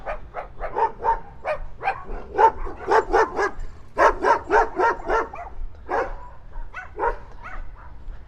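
Dogs bark repeatedly in quick rhythmic bursts, loud and fairly close, a steady run of yapping barks with brief pauses and no talk over them.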